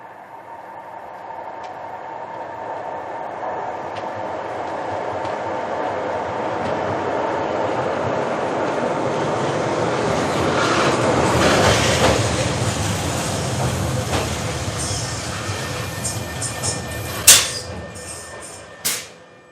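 A passenger train rolls along the rails with a steady rumble and clickety-clack that builds in loudness, then sharp metallic squeals and clanks near the end, with no talking.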